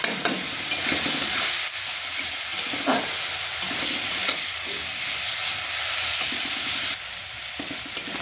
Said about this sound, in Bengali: পেঁয়াজটা আমার ভাজা ভাজা হয়ে গেছে, আর বেশি ভাজবো না পেঁয়াজটা।